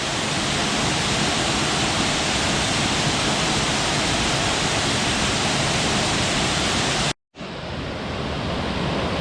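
Dog Slaughter Falls pours in a loud, steady, broadband roar of falling water, close and continuous apart from a brief cut near the end.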